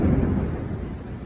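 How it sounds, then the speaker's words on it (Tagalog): Deep, loud thunder rumbles close by during a heavy rainstorm that broke after hot weather, a dense low roll that fades slightly over its short span, with no voices. "Nadidinig niyo? Kulog kidlat."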